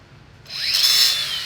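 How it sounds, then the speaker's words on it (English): A power tool, likely a grinder or cutoff tool, cuts old hangers off a jackshaft while a V-twin transmission is reworked; it starts abruptly after a quiet moment and rises to a loud, steady high-pitched whine. "cutting out the old hangers from the jack shaft"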